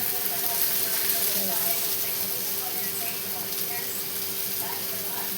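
Bitter gourd (karela) slices coated in masala fry in a pan with a steady, unbroken sizzling hiss that stays even and close throughout.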